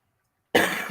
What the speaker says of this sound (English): Overlook the coughing, guys.